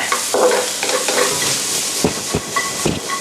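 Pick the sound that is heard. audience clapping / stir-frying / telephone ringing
stir-frying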